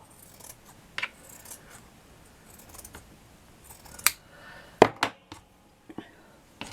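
Scissors snip through thread and fabric on a beaded sewing project, several crisp close cuts spaced irregularly, the sharpest clustered near the end, with faint handling sounds between.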